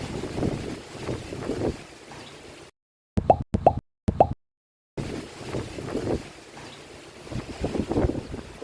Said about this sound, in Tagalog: The weather today, oh, mukhang malakas ang hangin.